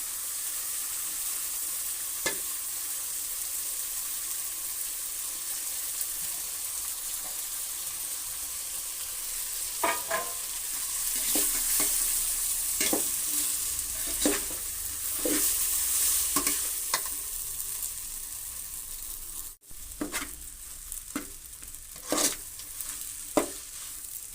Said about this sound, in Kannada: ಟೊಮೊಟೊ ಆಗಿದೆ ಈ ಥರ ಬೇಯಬೇಕು ಟೊಮೊಟೊ ಒಗ್ಗರಣೆಲಿ ಬೇಯಲಿ